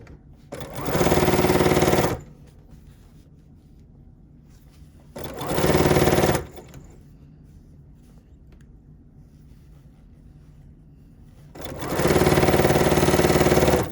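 A sewing machine chain-pieces quilt strips in three separate loud bursts of fast stitching, each lasting one to two seconds, with quiet handling between them.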